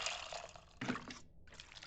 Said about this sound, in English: We pour water,